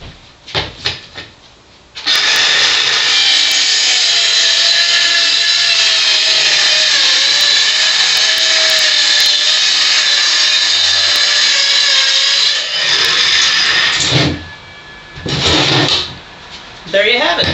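Saw cutting wood pieces for a large chicken nest box makes one long, loud, steady rasping run of about ten seconds, then a shorter burst after a brief pause, with a few handling knocks before it starts.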